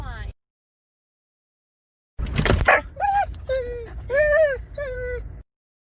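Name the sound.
dogs barking and whimpering in a car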